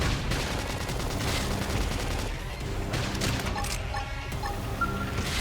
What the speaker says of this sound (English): Topple them with gunfire.